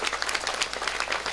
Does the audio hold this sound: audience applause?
yes